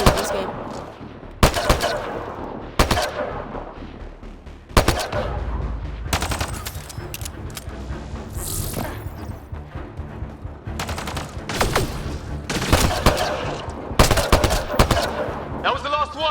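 Rapid gunfire in Mass Effect Andromeda, with loud bursts of automatic shots and single cracks scattered across a noisy firefight, layered over game sound effects and music with occasional voices.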